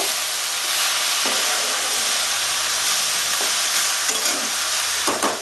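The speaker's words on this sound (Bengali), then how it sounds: "নাড়াচাড়া করে যে বাঁধাকপিটা ঢাকা দিয়ে দেব" Cabbage frying Bengali style in a pan, a steady close sizzle and steamy hiss with a few soft stirring scrapes, no voices.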